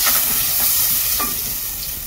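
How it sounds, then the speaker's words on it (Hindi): Steady, loud sizzling of tomatoes frying in a pan, with occasional stirring scrapes, close up and without any voices. "टमाटर को अच्छे से भूनेंगे।"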